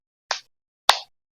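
Two sharp hand claps about half a second apart, crisp and close, made alone in a classroom clapping game.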